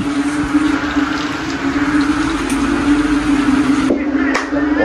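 Rainwater after about three hours of rain flows and splashes steadily nearby, a constant rushing wash with a faint hum beneath and brief voices near the end.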